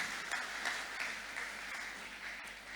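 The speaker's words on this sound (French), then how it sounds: "Est-ce qu'on peut acclamer pour tout le monde?" Church congregation applauding, a dense, steady wash of many hands clapping that fills the room for a few seconds, fairly distant and even in level.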